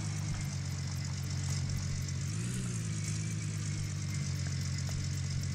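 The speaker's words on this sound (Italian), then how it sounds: "Tolgo il freno a mano, accendo il motore." A truck engine in the Gold Rush video game idles steadily with a low rumble, briefly revving up and settling back after about two seconds. No voices.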